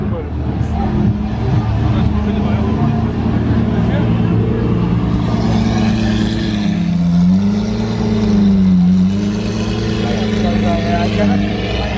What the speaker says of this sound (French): Pot d'échappement Capristo fait un bruit.